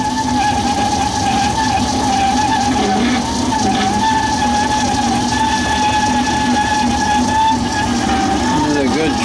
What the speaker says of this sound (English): Put some more oil on it, see if I can't get this squealing to shut down some.